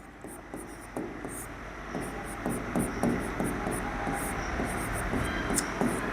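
Pen or pencil scratching across paper while a Class 10 maths solution is written out: dense, uneven scribbling strokes with short taps and pauses, close and fairly quiet, with no talking.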